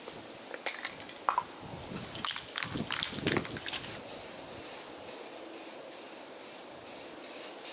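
An aerosol or spray gun hisses onto a Mazda Miata body panel in a series of short bursts, then longer steady passes, close and fairly loud with light clatter between strokes.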